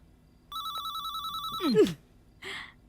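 A telephone rings in a steady, trilling electronic pattern, then cuts off with a short clatter and a brief rustle afterward.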